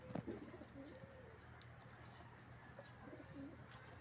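Racing pigeons in a loft coo softly, a few low throaty calls spaced across the moment with faint rustling in between.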